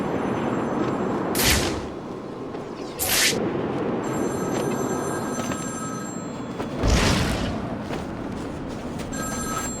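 A telephone rings in Batman: Arkham City, the bell bursting out in three separate loud rings spaced a few seconds apart over a constant low background rumble.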